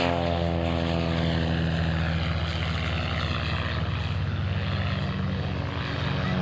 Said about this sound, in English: These aircraft, I believe, are powered by the 260 horsepower Lycoming engines.